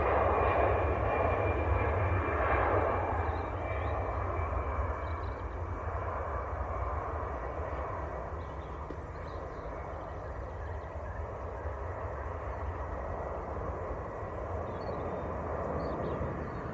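A Lufthansa Airbus A319 departs Manchester Airport for Frankfurt, its jet engines giving a broad, steady roar that is loudest at first and eases slightly as it climbs away, with no voices.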